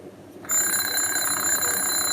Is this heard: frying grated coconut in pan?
no